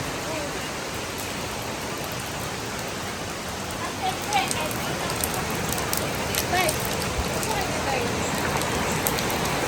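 Heavy rain falls steadily on a farm in a continuous broadband hiss, with a few brief louder patches partway through and faint voices talking under it.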